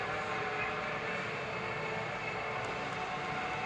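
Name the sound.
freight train coming into Bedford Station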